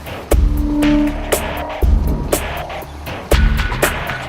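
A Mercedes-Benz GL 350 CDI SUV creeps down a steep, slippery mud slope under hill-descent control, its engine humming low while the body jolts with three heavy, evenly spaced thuds and rattles.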